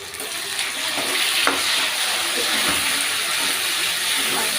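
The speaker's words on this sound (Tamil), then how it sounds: "எண்ணெய் நிறைய ஊற்றிருக்கனால தக்காளி போட்டுடலாம்" Tomatoes frying in plenty of oil with onion and garlic for vatha kuzhambu, a steady close hiss and sizzle with faint stirring clatter, no talking.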